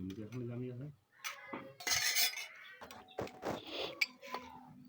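Metal cutlery clinks and scrapes against dishes as two people eat a home-cooked meal of mutton curry with bottle gourd, with soft intermittent clatter and brief bursts of talk throughout.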